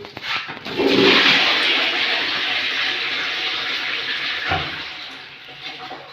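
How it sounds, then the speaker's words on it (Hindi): A wall-hung toilet gives a single flush during an installation test, a loud rushing surge of water that settles into steady running and refilling for several seconds, close by with no talk. "अब देखिए, हमने ये सिंगल फ्लश की है"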